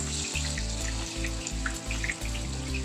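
Chopped onion hits hot oil in a pan for a chicken kathi roll filling, giving a steady, close sizzle with scattered crackles and pops over a low, even hum.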